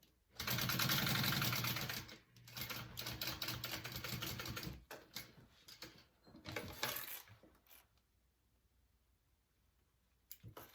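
Sewing machine stitching two fabric pieces together along a zipper for a unisex tote bag, running in bursts of rapid mechanical chatter with short pauses between runs, close and clear.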